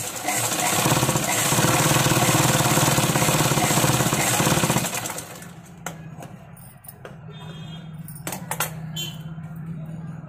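Sewing machine stitching canvas for a blouse neck, a steady loud mechanical whir for about five seconds, then stopping to a quieter background with a few brief clicks.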